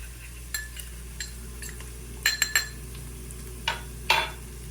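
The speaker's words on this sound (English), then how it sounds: "I'm going to mix these spices together" A spoon mixes spices into vegetable soup in a pot, giving a few scattered light clinks and scrapes against the metal, spaced irregularly and fairly faint over a low steady background hum, with no talking.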